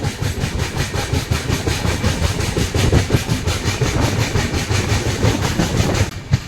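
The Bhavnagar to Ahmedabad express passenger train runs on rails, a loud, close, continuous rumble with a steady clickety-clack rhythm and no voices.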